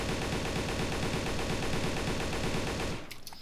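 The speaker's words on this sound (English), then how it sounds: "let's try to control the recoil with the AK over this kind of a distance" Rapid sustained AK-47 automatic fire in the video game Darkest Days, a loud steady stream of shots for about three seconds that stops abruptly, followed by a few faint clicks.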